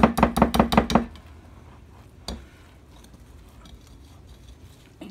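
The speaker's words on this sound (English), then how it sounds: "try to get the lumps out the best you can. That's why I'm using a whisk at first." A whisk beats jalapeño and cheddar cornbread batter in a bowl, making a quick run of about six sharp rhythmic clacks, then a single knock after a pause, with quiet background afterward.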